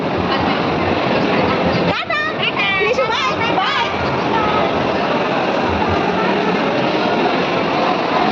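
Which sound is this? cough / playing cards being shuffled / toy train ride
toy train ride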